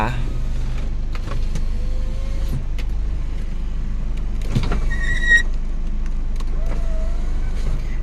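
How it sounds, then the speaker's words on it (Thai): Power windows operating in a Thai-market Isuzu Adventure seven-seater, a few brief motor whines heard inside the cabin against steady engine idle and air-conditioning fan noise; faint speech-like sounds run underneath. "แล้วก็มาดูส่วนของกระจกไฟฟ้า"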